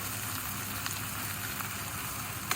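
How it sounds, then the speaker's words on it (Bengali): Thinly sliced onions sizzle steadily in hot oil in a pan for a tomato and dried-fish chutney, a soft continuous fry hiss with a couple of faint ticks, close and fairly quiet. "আমি পেঁয়াজগুলো সুন্দরভাবে ভাজা ভাজা করতেছি"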